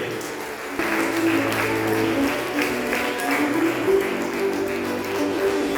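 Sustained crowd clapping in a cathedral hall during an honouring ceremony at a temperance society anniversary in Irinjalakuda, continuous and even throughout, with faint voices mixed underneath.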